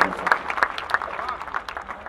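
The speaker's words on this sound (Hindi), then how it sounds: "एक बार तालियां बजा के आदेशित करें" A crowd at a Hindi poetry recital claps briefly, with a few distinct rhythmic claps standing out over a thin, uneven bed of sound.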